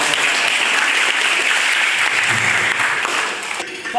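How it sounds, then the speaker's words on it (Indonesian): Loud, dense applause from an audience at a public speaking training session at an Islamic college, continuous for several seconds before tapering at the end. "Tepuk tangan dong"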